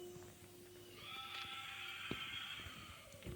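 A Minecraft donkey brays in a drawn-out, wheezy call, faint and somewhat distant, with a few clicks and soft thuds around it.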